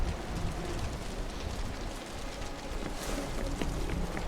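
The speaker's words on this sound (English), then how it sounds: "The rain's getting heavier." Heavy rain in a video game, a steady dense hiss of downpour pattering on surfaces, constant and fairly faint with no voices.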